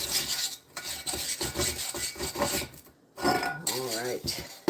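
Pumice stone scrubs rust off cast iron cookware in quick, rough rasping strokes, close and bursty with short pauses, and a voice speaks briefly near the end.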